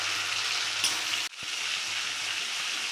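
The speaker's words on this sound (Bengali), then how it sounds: "তেল আর হলুদ একটু কষিয়ে নেব" Oil and turmeric sautéing in a pan ahead of a mutton curry, a continuous close frying hiss broken by one brief dip partway through, with no talking.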